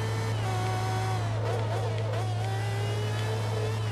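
A race car engine in Forza Motorsport 2 holds a steady high whine with a constant low drone, shifting pitch slightly as it revs through a corner; loud and continuous with no talk.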